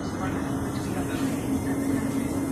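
Steady low rumble and hum of a Class 707 passenger train running near Putney, with a constant drone and broadband rolling noise throughout, no speech.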